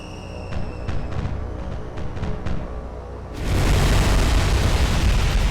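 Bombs from an air strike burst on an Italian light cruiser in the naval war game War on the Sea, a sudden heavy roaring blast that swells over an already loud rumble and holds as a sustained, dense boom.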